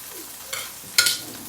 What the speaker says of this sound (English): While our fish is searing over there, it doesn't take long.